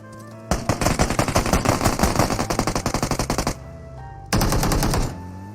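Rapid sniper rifle and automatic gunfire in a battle royale video game, a long dense burst of loud repeated shots followed by a brief lull and another loud volley, with no talking.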